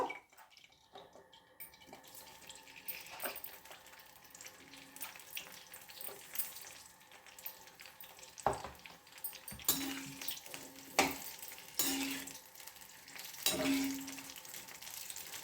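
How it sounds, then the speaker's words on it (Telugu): Pieces of eggplant fry in hot oil with a soft, steady sizzle, broken by occasional sharper pops and spatters up close. "వంకాయలు లైట్గా జస్ట్ లైట్గా బ్రౌన్ కలర్ వచ్చేంతవరకు వేయించుకోండి ఫ్రెండ్స్"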